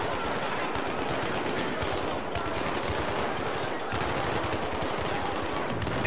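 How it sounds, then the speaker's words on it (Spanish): Sustained automatic gunfire from a Battlefield 3 campaign battle, dense overlapping bursts rattling continuously and loudly through the whole stretch, with no pause. "¡No dejéis de disparar!"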